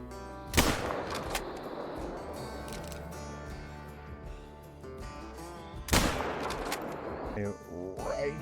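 Two sharp gunshots ring out several seconds apart while hunting raccoons outdoors, each a loud crack followed by a fading echo, with faint background noise in between.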